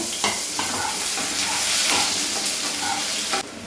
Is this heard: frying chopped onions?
yes